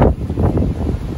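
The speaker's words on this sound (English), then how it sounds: "Look, it's getting windy again." Gusty wind buffets the microphone outdoors during a fishing trip, a loud, low rumbling roar with uneven surges and no clear speech.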